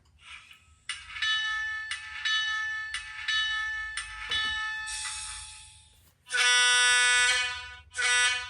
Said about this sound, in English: Let's see if we hear the bell.